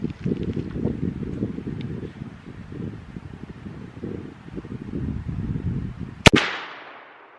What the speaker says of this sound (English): we're ready to prime with our capper and take a shot